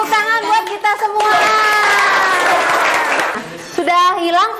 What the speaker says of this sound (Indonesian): Oke, sudah, tepuk tangan buat kita semua.